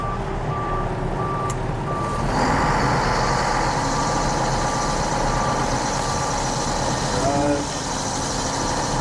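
An HM 350 articulating dump truck idles loudly nearby while evenly spaced reversing beeps sound, then its engine note rises; a brief voice is heard in the mix.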